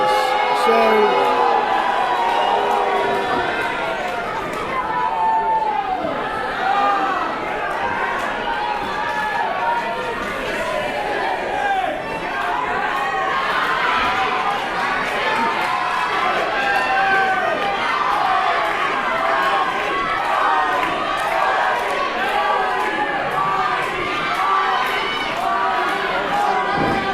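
A wrestling event crowd at a Wrestlecade show roars and cheers steadily, a dense wash of shouts and chatter filling the arena without letup for the whole stretch.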